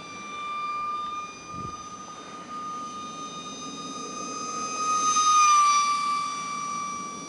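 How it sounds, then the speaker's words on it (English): A small foam RC Eurofighter model jet flies overhead with a steady high-pitched electric whine that swells louder as it passes nearby, then eases off, with no talking. "One nice flying jet."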